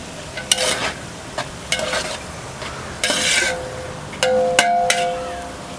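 Avial vegetables being stirred in a pot for a Kerala sadya-style dish, with several scraping clanks of a spoon against metal, a few brighter ringing knocks near the end, and a faint voice murmuring underneath.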